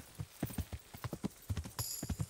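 Horse hooves clopping in quick, steady rhythm while riding in the medieval video game Kingdom Come: Deliverance, close and clear, with a brief high shimmer near the end.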